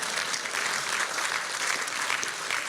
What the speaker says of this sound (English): You can applaud if you want.